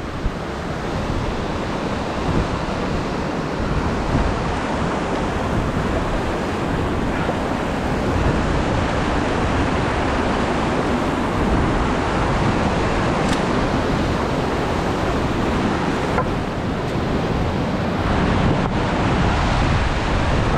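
River water rushes steadily through the Cucumber Rapids boulder field past rocks and debris, a loud, unbroken roar of churning flow with wind buffeting the microphone.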